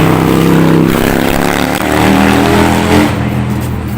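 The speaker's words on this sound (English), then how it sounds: "noisy ass motorcycles" Loud, close engine roar with rising and falling revs, motorcycles accelerating past on small side streets, continuous and dominant throughout.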